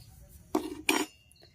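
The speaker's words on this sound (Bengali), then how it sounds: "তারপরে খুব ভালো করে আমি ফেটে নিচ্ছি যাতে বেকিং পাউডারটা সুন্দরভাবে মিশে যায়" A whisk or spoon beats semolina batter with half a spoon of baking powder in a bowl, giving two short bursts of clinking and scraping strokes, close and moderately loud, with quiet between.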